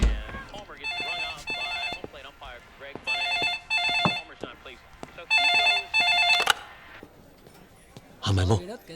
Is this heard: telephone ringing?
yes